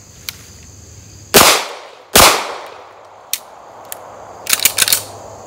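Gunfire from an HK VP9 pistol loaded with ETS magazines on a range: two loud, sharp shots spaced under a second apart, then small clicks and a closing flurry of quick metallic clacks of handling.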